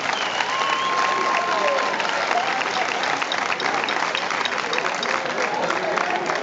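Sustained audience applause filling Tarragona Cathedral, a dense, steady roar of many hands clapping throughout with faint voices mixed in.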